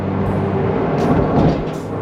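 Steady low road rumble from inside a Mazda Miata ND convertible, with dull knocks and rattles as its stiffened suspension thumps over rough pavement.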